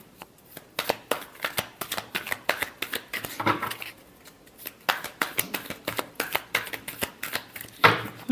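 Tarot cards being shuffled by hand make a long series of quick riffling bursts and soft slaps, close and crisp, in an irregular rhythm with brief pauses between shuffles.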